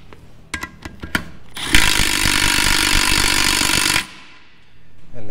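An impact gun starts a 12 mm Allen head bolt on a Honda/Acura K-series transmission with a few sharp clicks, then hammers loudly and continuously for about two seconds before stopping abruptly.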